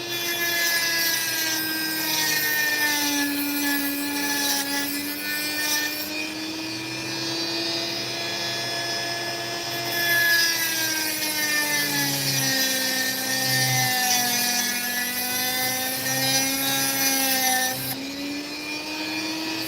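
A powered saw cuts through opal-bearing rock, holding a steady, close, loud whine with strong harmonic tones that dip and rise in pitch as the blade loads up, with faint scraping underneath and no talk.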